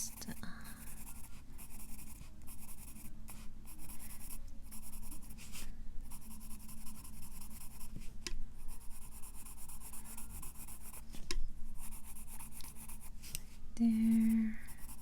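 A light brown Crayola colored pencil scratches across Create Space paper in a steady, close, soft scribbling texture with brief pauses, occasional breaths and a short burst of speech near the end.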